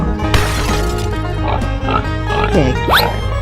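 A pig gives several short grunting oinks and squeals over a loud, steady background bed, close and prominent throughout.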